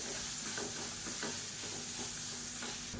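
Coconut and coriander paste being stirred in a hot pan, frying with a steady close sizzle and soft irregular scraping strokes from the spoon, no voices.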